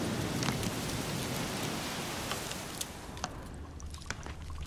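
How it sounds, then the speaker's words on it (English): Steady rainfall in The Witcher 3 during a swamp monster contract, a dense hiss of drops pattering on surfaces that fills the clip, with a few sharper drips standing out near the end. "Looks like rain."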